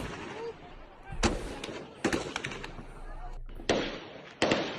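Gunshots ring out along a street where rival groups of young men face each other, coming as scattered sharp cracks and pops, some echoing at a distance. A steady rumble of crowd or traffic noise runs underneath.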